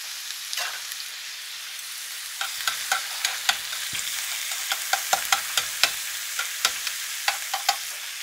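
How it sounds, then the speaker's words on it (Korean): Carrots cooking in a pan with cooking oil, sesame oil and a splash of water, making a steady close sizzle broken by frequent sharp spatula taps and scrapes in an uneven rhythm, without any voice. "당근도 기름을 조금 넣고 식용유 좀 넣고 참기름을 넣습니다. 여기에 물을 조금 넣어서 익혀줍니다."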